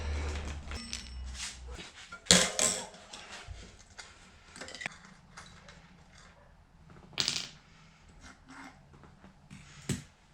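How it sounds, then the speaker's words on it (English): Hands work on a bicycle wheel and cassette from a Shimano Sora gravel setup, producing scattered close clicks, ratcheting ticks and a few sharp metallic clacks with quiet pauses between them. "Pop the wheel off and we'll flip the cassette over first."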